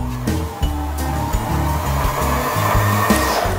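A Janome 3016 sewing machine winds a bobbin with a steady, loud motor whir under foot-pedal control, its pitch shifting slightly as the pedal is pressed.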